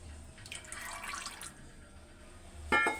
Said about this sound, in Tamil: இதில் 300 நல்லெண்ணெய் ஊற்றுறோம்.